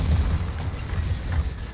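A rumbling explosion in Diablo 4, with a heavy low boom and churning crackle sustained throughout the short moment, loud and close.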